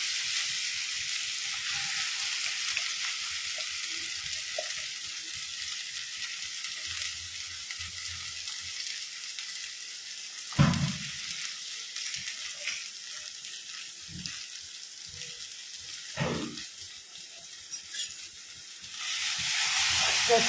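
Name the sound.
crushed sweet corn frying in hot oil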